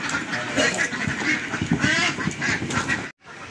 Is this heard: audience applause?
no